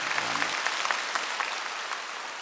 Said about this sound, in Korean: 박수 한번 하십시오